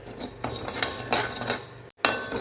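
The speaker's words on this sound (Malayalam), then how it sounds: "അരി ചേർത്ത് കൊടുക്കുന്നുണ്ട് അരി ഒന്ന് പൊട്ടി വരും" Rice is dry-roasted in a pan for idli podi, with a quick run of close, sharp scraping and clinking from stirring the grains against the metal, a brief pause, then another clink.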